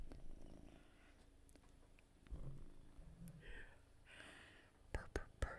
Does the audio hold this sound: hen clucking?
no